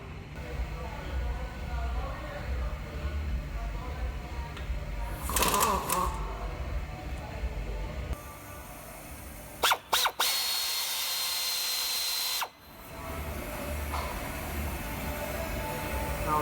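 On a Jeep 3.6 Pentastar, a power tool spins out timing cover bolts in several whirring bursts, one long run among them, over a steady background hum in a garage.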